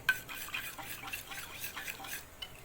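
Fish-dish ingredients being mixed together with salt, heard as a steady run of close, soft scraping and rustling stirring strokes with no voices.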